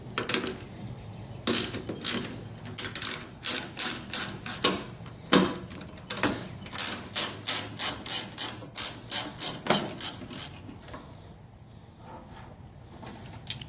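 Hand ratchet with a 13mm socket turning tailgate bolts on a 2007 Chevy Silverado, fast rhythmic clicking strokes in bursts, close and crisp, stopping near the end.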